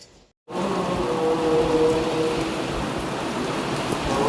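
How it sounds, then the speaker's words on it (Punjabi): Steady rain falls outside a house in Punjab, a dense continuous hiss that starts abruptly after a short silence and stays loud and even, with no speech. "ਬਾਹਰ ਹੋ ਰਹੀ ਹੈ ਜੀ ਬਾਰਿਸ਼"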